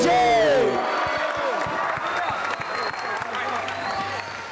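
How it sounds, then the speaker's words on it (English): A youth conference audience bursts into loud applause and cheering, a dense crowd roar that starts strong and slowly thins into scattered clapping and whoops, with a voice over it at the start. "let's give a round of applause to our games crew"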